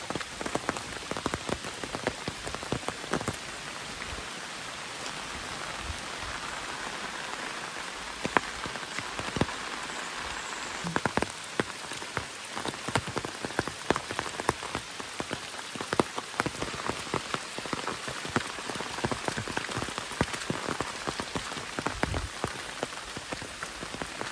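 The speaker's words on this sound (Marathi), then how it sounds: "तर जोरदार पाऊस आहे गावाकडे" Heavy monsoon rain pours steadily on a village, a dense continuous hiss of drops drumming on surfaces with scattered sharper splats close by, no voices.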